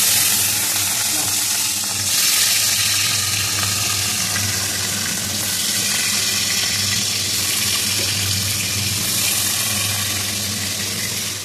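Katla fish pieces frying in hot oil in a pan, a continuous loud crackling sizzle with steady bubbling that swells slightly at times, no voices.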